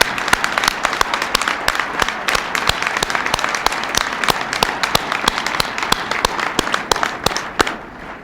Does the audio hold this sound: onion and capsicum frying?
no